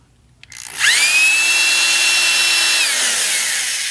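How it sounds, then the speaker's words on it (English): A power drill bites into a tire rim with a loud, steady, high-pitched whine that starts abruptly and holds level, with a slight drop in pitch near the end. "So now I'm going to drill a hole here so I can start my saw"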